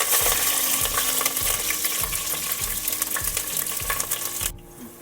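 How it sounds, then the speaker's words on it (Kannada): Green chillies fry in about three spoons of hot oil, a loud, steady, crackling sizzle with regular scraping strokes of a spoon, cutting off abruptly just before the end. "ಮೊದಲಿಗೆ ಈಗ 3 ಸ್ಪೂನ್ ಎಣ್ಣೆ ಹಾಕೋತಾ ಇದ್ದೀನಿ. ನೋಡಿ ಫ್ರೆಂಡ್ಸ್, ಈಗ ನಾನು ಮೊದಲಿಗೆ ಹಸಿಮೆಣಸಿನಕಾಯಿನ ಹಾಕ್ತಾ ಇದ್ದೀನಿ."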